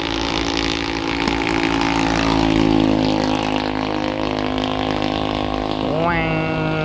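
Roadside traffic in front of a house, with loud engine drone and passing motorbikes, one revving up near the end, heard close and continuous while someone talks over it.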